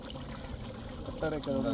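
Water poured into a clay pot of dried fish curry cooking on a beach, a trickling splash that swells louder toward the end, with speech nearby.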